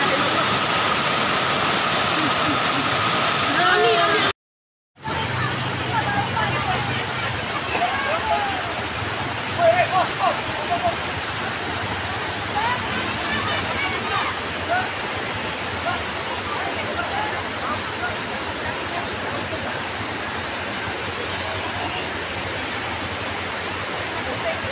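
Heavy rain and rushing floodwater pour near a broken bridge in Desa Lembah Sari, Batu Layar, Lombok, a dense, steady roar of water filling the whole clip, with a brief dropout early and faint voices underneath.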